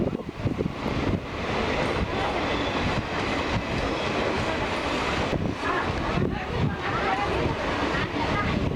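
A WAP1 electric locomotive hauled passenger train rolls past close by at Bangalore Cantonment, a steady loud rumble and clatter of wagons with wind buffeting the microphone throughout.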